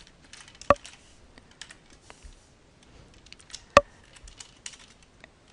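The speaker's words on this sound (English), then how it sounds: "Now we need to type a repetitive text." Keys on a computer keyboard clatter in irregular, close taps with two sharper clacks standing out, fairly quiet with no talking.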